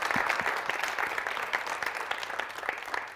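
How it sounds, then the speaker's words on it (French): A crowd applauds a couple at a Valentine's Day special show, sustained clapping from many people at an even level throughout, with no voices on top. "Merci d'applaudir très fort."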